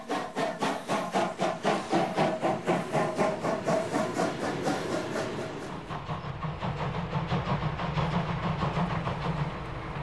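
A steam locomotive in Wolsztyn, Poland chuffs in a rapid, regular rhythm, hissing and rumbling as it passes, the beat softening and receding toward the end.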